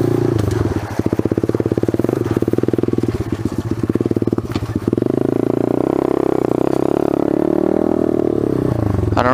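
A small pit bike engine putters in a rapid, rough rhythm, close and loud, then settles into a smoother steady drone with clattering and crackle mixed in.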